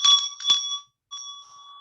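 A hand bell clanks loudly and close, in two ringing strikes, a brief pause, then a third ring that fades, with no voices.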